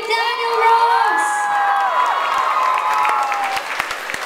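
A live studio audience cheers for Daniel Ross's blue team, high shouts and whoops with scattered applause swelling together, then tapering off with a few sharp claps at the end.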